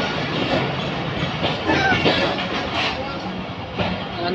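Steady rumble and rattle of a Millat Express passenger train drawing into Gojra station in Pakistan, heard from on board. The noise is close and continuous, with faint clicking of the wheels and some voices underneath.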